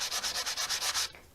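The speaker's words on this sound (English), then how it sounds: "sanding block and just run it along the edge of my artwork" A sanding block rasps along the edge of a piece of artwork card in quick, regular back-and-forth strokes, close and crisp, about nine rhythmic passes before it stops.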